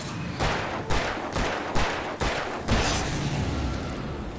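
Gunfire in Alan Wake Remastered, a series of loud shots about half a second apart over a dense, noisy game soundscape, then a sustained roar.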